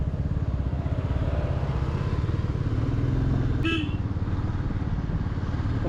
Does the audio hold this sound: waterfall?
no